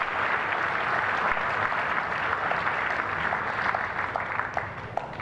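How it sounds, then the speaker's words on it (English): A crowd at a player-of-the-year awards ceremony claps steadily, dense sustained applause throughout that eases slightly toward the end. "I would appreciate it if we gave them a round of applause"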